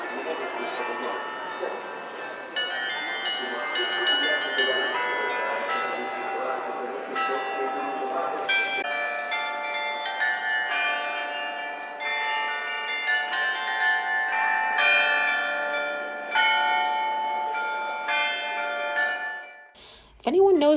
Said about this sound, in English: The bells toll throughout the city and can be heard from every corner.